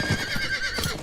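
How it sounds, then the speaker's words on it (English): A horse mount whinnies in the Diablo 4 video game, a short close neigh with harmonic tremolo over steady game ambience and low thumps, lasting about a second with no talk. "Let me even get on my horse"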